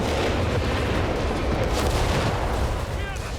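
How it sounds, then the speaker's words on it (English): Assault grenades and battlefield fire in the World War II strategy game Company of Heroes 3, heard as a dense, continuous roar of booms and crackling gunfire at steady loudness for the whole stretch, with no clear gaps. "They throw out their assault grenades."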